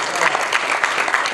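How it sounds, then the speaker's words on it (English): Congregation clapping in praise during a church service, a short burst of quick, close hand claps with uneven rhythm. "We want to give God some clap of praise"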